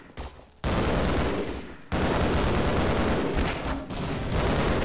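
Enemy gunfire rattles in a video game set on the road to the Lambda Complex: loud, dense bursts of rapid shots that break off briefly, then resume and keep firing.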